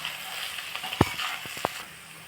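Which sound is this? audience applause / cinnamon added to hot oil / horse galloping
cinnamon added to hot oil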